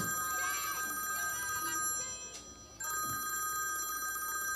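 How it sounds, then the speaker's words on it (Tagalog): A mobile phone rings repeatedly in a steady repeating tone pattern, clear and fairly close, with a short break midway before the ringing resumes; no talk over it. "Sunod-sunod ang ring."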